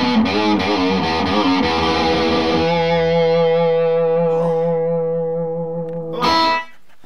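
A seventies Gibson Les Paul electric guitar runs through distorted effects, strummed chords giving way to a long sustained, slowly decaying ringing note, then a final loud strum, clear and close with no talking.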